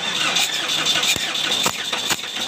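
A Mitsubishi Strada Triton GLS engine with a rough running fault is cranked over, a fairly loud run of starter and engine noise broken by several sharp knocks, with no talk.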